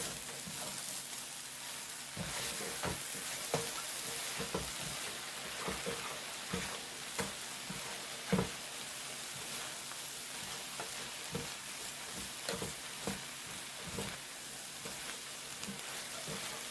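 Sweet potatoes fry in a pan with a steady sizzle, punctuated by repeated scrapes and taps of a spatula as they are tossed and stirred.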